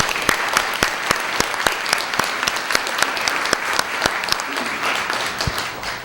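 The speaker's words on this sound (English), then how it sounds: "Let's give all the award recipients a round of applause." At an environmental leadership awards ceremony, the audience applauds the award recipients with steady clapping, several sharp individual claps standing out near the front of the room.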